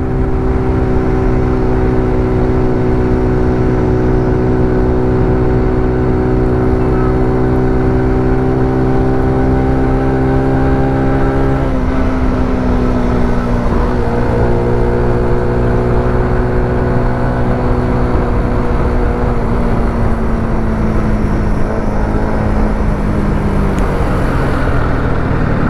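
A TVS XL100 moped engine runs steadily while riding, a loud continuous drone with a firm harmonic hum that drops slightly in pitch partway through, with no talk over it.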